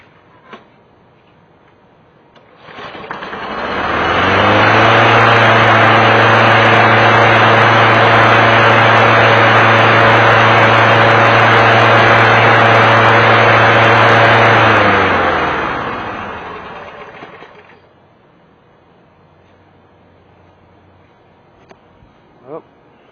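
A Snapper push lawn mower engine, just tuned up and started with starting fluid, runs at a loud steady drone for about fifteen seconds after ramping up, then winds down and cuts out, leaving near quiet.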